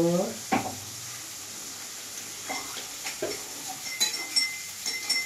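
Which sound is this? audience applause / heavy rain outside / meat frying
meat frying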